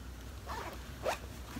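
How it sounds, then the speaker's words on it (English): A zipper is pulled up on a pair of soft flannel-like wide-leg pants in one quick, close rasp, fairly quiet, with no talking. "let me zip them up"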